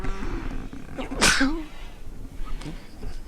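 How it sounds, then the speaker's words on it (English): A single sharp sneeze bursts out loud and close, with brief murmuring before and after. "if you'll excuse me, I'm just going to sneeze"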